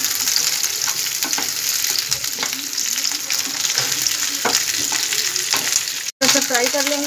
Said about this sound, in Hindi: तेल गर्म हो चुका है, अब इसमें मैं भिंडी को डाल दूँगी। अब इसे हम फ्राई कर लेंगे।